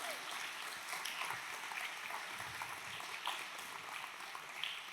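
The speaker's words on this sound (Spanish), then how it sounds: "si le va a aplaudir, aplaude al Señor" A church congregation applauds with steady, dense clapping that holds even and fairly faint throughout, with no one speaking over it.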